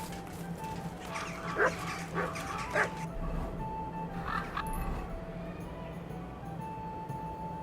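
A dog barks and yips a few times in the video game Kingdom Come: Deliverance 2, set in a medieval town, moderately close over a steady low hum of background music and ambience.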